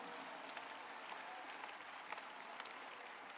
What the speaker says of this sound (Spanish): Alguien dele un aplauso fuerte al Rey de la Gloria.